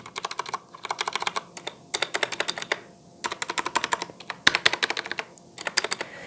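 Typing on a Durgod K320 mechanical keyboard with white switches: quick bursts of crisp, close keystroke clicks in short runs separated by brief pauses, with no voices.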